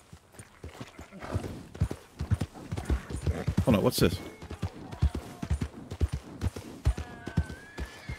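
Steady clip-clop of horse hooves in a quick rhythm in the video game Red Dead Redemption, with someone talking over them and a brief whinny partway through.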